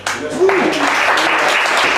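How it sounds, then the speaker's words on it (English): Audience applause at a live stage event breaks out after a brief lead-in, a steady loud wash of clapping filling the room for the rest of the moment. "I'd like to ask everybody to put a nice round of applause together"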